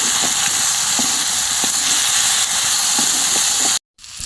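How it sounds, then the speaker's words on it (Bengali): Steady loud hissing sizzle of a spice paste with chopped tomato frying in hot oil, with a few faint clicks, cutting off abruptly near the end. "আবারও একটু ভেজে নেব মশলাটাকে"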